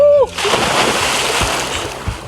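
Someone plunges into ice-cold water, leaving a loud, close splash followed by sloshing and churning, with a brief shout or gasp just before the plunge.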